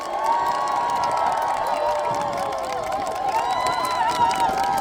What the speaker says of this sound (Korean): 우리 내부 국회의원 앞으로 더 잘하라고 한 번만 더 박수 부탁드립니다.